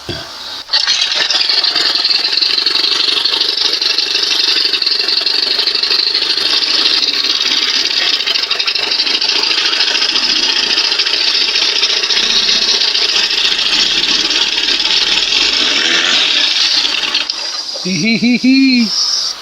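A 1997 Johnson 115 OceanRunner outboard motor runs steadily at a high, buzzing pitch for most of the clip, loud and close, then drops off near the end.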